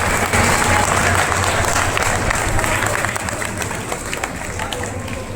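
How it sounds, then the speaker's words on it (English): An audience at a school investiture ceremony claps in sustained applause, a dense, loud wash of hands that fades slightly toward the end, with some crowd murmur underneath. "So with a huge round of applause."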